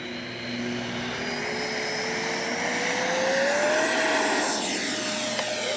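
A Freewing 70mm Yak 130 RC jet takes off with flaps set, its steady ducted-fan whine held loud and rising slightly in pitch as it climbs, continuous with no talk.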